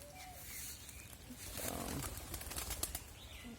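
Pigeons flutter and flap their wings in brief bursts while visiting a grandmother's house to eat grass, with faint cooing and bird calls against steady outdoor background noise.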